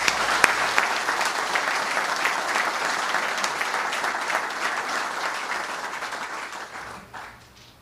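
Warm, steady applause from an audience welcoming distinguished guests at a military promotion ceremony for a brigadier general, sustained clapping that tapers off at the end.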